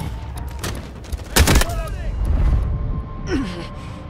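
Gunfire crackles during an attack on an enemy position in the Delta Force video game, a short burst of loud shots near the middle, with game voices and effects around it.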